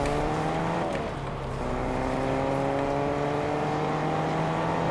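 A car driving in a Fortnite-style solo arena match, its engine droning steadily with rising revving tones and a brief dip, no talking.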